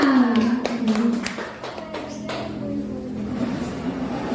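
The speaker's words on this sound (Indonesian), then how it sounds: "Tepuk tangan untuk kita semua." A group claps in a quick burst of sharp, overlapping hand claps that fades into scattered pats, with voices and background noise underneath.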